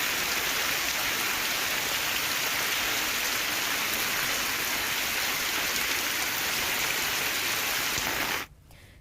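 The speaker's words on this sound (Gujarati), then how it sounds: "સોનિકપુરમાં વરસાદ જોવા મળ્યો।" Heavy rain pours down steadily in a dense, even hiss, close and loud throughout, then cuts off abruptly near the end.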